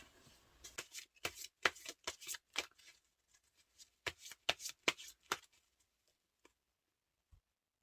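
Tarot cards are shuffled in quick bursts of crisp riffling and patter, two clusters of close, light flutters separated by a short pause, then a few faint taps and near silence.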